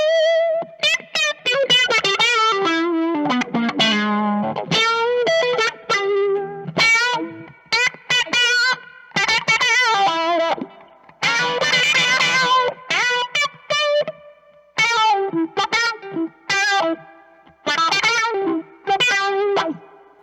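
An electric guitar played through an effects pedal, distorted with a chorus shimmer, in bursts of chords and riffs separated by short gaps.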